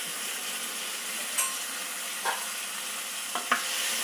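Chopped tomatoes with turmeric powder and a little salt sauté in a pan, keeping up a constant close sizzle broken by a few soft spoon scrapes and stirs.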